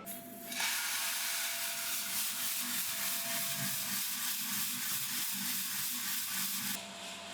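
A Loring smart coffee roaster hums and hisses steadily while roasting Indian specialty coffee, a continuous broadband airflow rush with faint rhythmic rattling underneath, close and even throughout.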